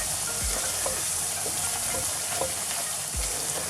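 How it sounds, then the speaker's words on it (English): Chicken bhuna being stirred in a hot pan, a dense, steady sizzle with a few soft thuds and scrapes from the spoon, close and alone with no talking. "You need to mix and stir properly so nothing gets burned in here."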